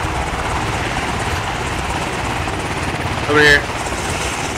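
A military helicopter landing nearby makes a steady loud rotor roar that fills the whole stretch, with a short louder burst near the end as someone calls out over it.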